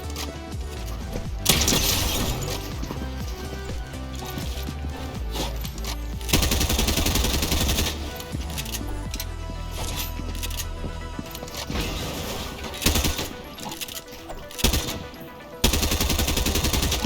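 Rapid gunfire from a new repeater rifle in a video game, loud bursts of shots and crashes with short gaps between them, continuing across the whole stretch.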